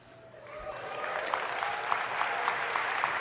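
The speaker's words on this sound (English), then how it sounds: "why don't we cheer him along while he does the last few bits?" Applause and cheering from a conference audience at a live real-time graphics demo, swelling up from quiet into steady clapping with a few sharper accents, moderately distant.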